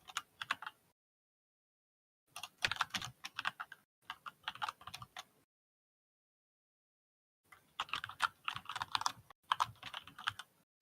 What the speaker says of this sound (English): we can hear your keyboard